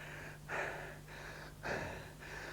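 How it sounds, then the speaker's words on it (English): Heavy, laboured breathing of a person just after climbing a pole, two loud gasping inhales about a second apart with softer exhales between, close to the mic over a steady low hum. "Lots of heavy breathing."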